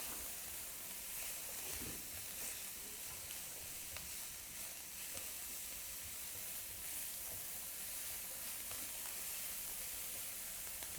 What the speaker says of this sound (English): So we're sauteing these down.